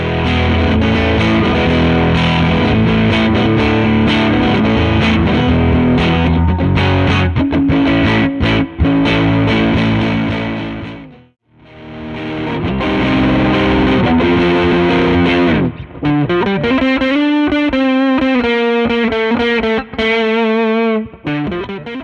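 Electric guitar run through a Portastudio-style preamp distortion pedal: loud, heavily driven chords and riffs that briefly fade out midway, then return as sustained bending lead notes with a wavering, chorus-like shimmer, with no talking.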